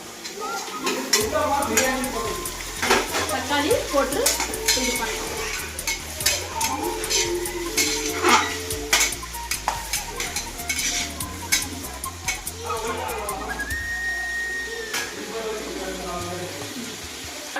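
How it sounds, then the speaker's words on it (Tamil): Tomatoes fry in a pan for mutton biryani while a utensil stirs them, steady sizzling with repeated scraping and clinks of metal against the pan, close and continuous for the whole stretch, with some talk over it. "தக்காளி போட்டு கொஞ்ச நேரம் அதை போடுவோம்"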